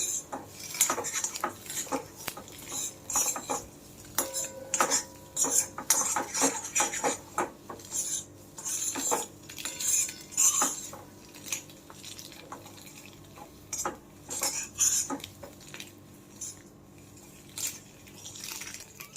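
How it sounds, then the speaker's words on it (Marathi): Eggs being roasted in a pan with turmeric and red chili powder, heard as irregular close clinks and scrapes of a utensil against the pan, some with light dripping or spattering, over a quiet background with no talking. "आणि ही हळद घालून ना आपण हे थोडेसे भाजून घ्यायचे आहेत अंडी"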